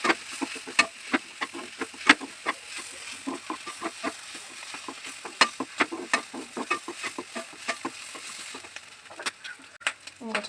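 Squid being stirred with crushed coconut paste in a pan for kanava thoran, a steady run of sharp utensil scrapes and clacks over a soft sizzle, close and moderately loud with no talking.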